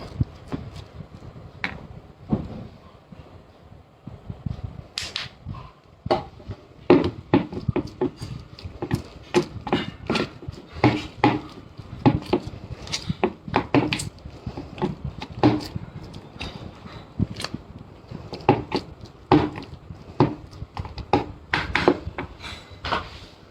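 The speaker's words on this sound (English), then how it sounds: "Okay, we'll mix this properly." Mango fudge mixture being stirred by hand in a bowl or pan, producing irregular scraping and clinking taps of utensil against the vessel, close and fairly quiet, with no talking.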